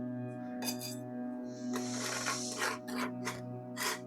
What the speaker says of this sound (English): Scrape up a lot of those seeds.